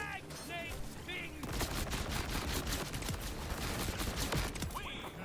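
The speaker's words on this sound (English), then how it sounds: "Throwing a frag, Nate Bing." Frag grenade thrown during a Borderlands 4 fight, set among rapid bursts of gunfire and booming hits in a busy combat mix, with brief game chatter early on.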